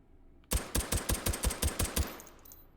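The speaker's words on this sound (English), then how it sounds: "Let's try it with the suppressor." An AMag pistol fired with a suppressor in the video game H3VR, with ten quick muffled thumping shots in an even rhythm, close and moderately loud, then a short fading tail.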